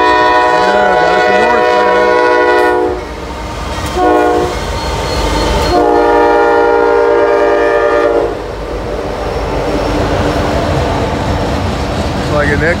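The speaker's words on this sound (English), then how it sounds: "First real train of the day here." A former CSX freight locomotive heading downhill toward the Ohio River sounds its horn in loud, close blasts, a long one, a short one, then another long one, over the rumble of the passing train.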